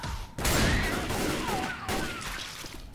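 Sustained rapid gunfire from a firefight in the zombie shooter Left 4 Dead 2, loud and dense bursts with no clear pauses, building after a brief quieter start.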